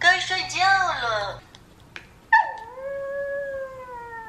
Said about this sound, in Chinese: 狗狗有声音。